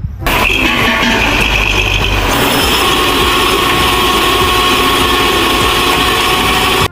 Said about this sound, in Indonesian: Wow, ada mobil derek.